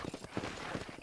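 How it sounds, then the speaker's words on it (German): Horse hooves clip-clopping at a steady walking rhythm in the video game Red Dead Redemption, close and fairly quiet, with no talking. "Control that horse, will ya?"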